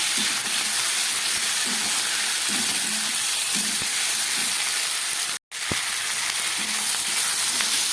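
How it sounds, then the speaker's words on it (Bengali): Cauliflower, capsicum, tomato and a fish head sautéing in a pan with spices, giving a loud, steady frying sizzle and hiss throughout, with occasional soft stirring knocks and a brief dropout partway through. "সব কিছু খুব ভালো করে আমি এটাকে কষাবো।"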